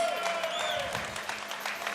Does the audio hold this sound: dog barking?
no